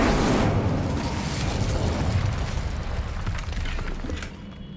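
An Incendio fire spell cast in the Hogwarts Legacy video game: a loud, roaring burst of flame rushing and crackling close by, then tapering slightly over a few seconds.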